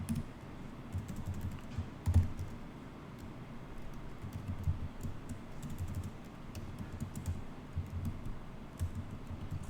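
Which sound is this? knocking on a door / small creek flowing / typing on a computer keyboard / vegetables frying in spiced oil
typing on a computer keyboard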